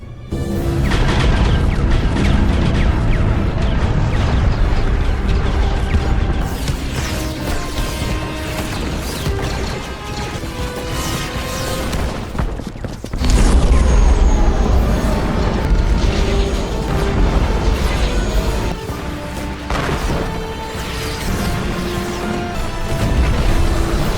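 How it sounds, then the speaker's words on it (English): A starship's main batteries bombard a fortress in a Star Wars Ahsoka battle scene: loud, continuous booming blasts and crashing impacts over a dense, roaring score-like wash, with no talk. "have the main batteries target the fortress for bombardment. Affirmative, Grand Admiral. Open fire."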